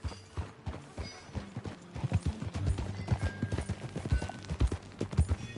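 Horse hooves clip-clop steadily along a trail in Red Dead Redemption 2, a quick regular rhythm of close, distinct footfalls with a faint whinny now and then.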